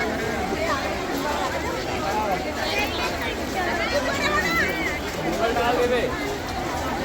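A large crowd of Shiv devotees gathered at a Shiv Mahapuran katha in Bhilai, a steady dense babble of many voices with scattered nearby talk throughout.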